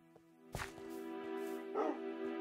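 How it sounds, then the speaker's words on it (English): Dogs in the video game Minecraft give a few short, close barks and yips over a low steady background hum. "Come on, doggies."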